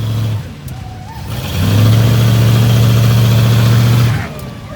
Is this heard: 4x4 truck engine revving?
yes